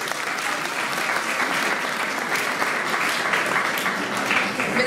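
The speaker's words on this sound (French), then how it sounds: "ça se salue, ça s'applaudit" An audience at a conservatory ceremony applauds loudly and continuously, a thick even wash of clapping with no letup, close and full throughout.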